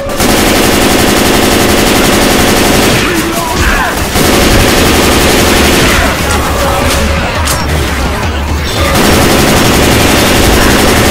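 Sustained loud rapid gunfire from the Left 4 Dead 2 video game in The Parish park level, dense automatic bursts running almost continuously with brief lulls.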